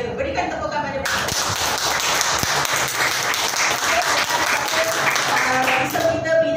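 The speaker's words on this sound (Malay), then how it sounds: "Berikan tepukan pada mereka." A business seminar audience bursts into loud, dense applause about a second in, the clapping staying steady and close throughout, with faint voices mixed in.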